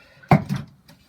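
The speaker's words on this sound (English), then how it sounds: "I've got little thumb pulls in here to open the cupboard doors" A small quarter-inch plywood cupboard door is pulled open by a thumb pull, giving one sharp close clack followed by a softer knock, then quiet.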